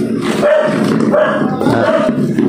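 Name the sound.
dog barking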